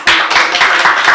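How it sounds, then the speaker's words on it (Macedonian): A room of people applauds a group after its presentation, a short, loud burst of close, dense clapping. "Дајте аплауз за групава"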